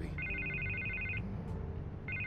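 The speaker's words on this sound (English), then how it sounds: "I can't get the phone to stop ringing" A telephone ringing in the Batman Telltale Series video game, giving a clear electronic trilling ring that lasts about a second, pauses, then starts again, heard quietly over a low background hum.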